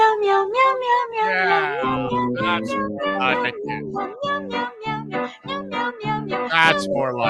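Repeated cat-like meows, steady and close, run over a musical backing with a bouncing bass line on a live radio show, the meows sung in rhythmic phrases.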